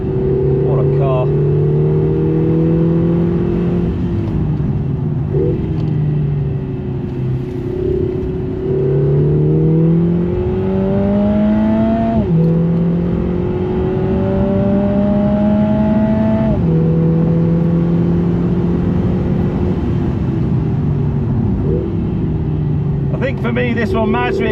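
A Lotus Emira fitted with a 360 bhp AMG engine laps a track, its engine note loud and close throughout, rising and falling with repeated upshifts and revving through corners, with a voice talking over it.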